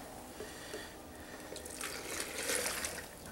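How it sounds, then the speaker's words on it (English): Melted snow water poured from a small measuring cup into a Solo Stove setup, a quiet, steady trickle and splash with faint dripping that swells slightly toward the end, with no talking. "So let me go ahead and pour this in here."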